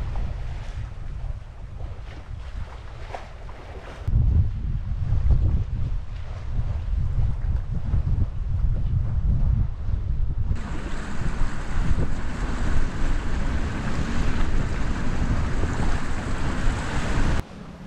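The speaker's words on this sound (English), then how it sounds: "the wind has been building and building all day" Constant rushing wind and breaking waves aboard a small sailboat in the Sound of Jura in 12 to 15 knots of breeze, with heavy wind buffeting on the microphone that grows louder partway through.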